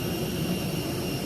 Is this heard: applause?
no